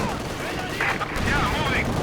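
Gunfire in the World War II strategy game Company of Heroes 2, a dense battlefield rumble of shots and distant bursts running under shouted voice lines throughout.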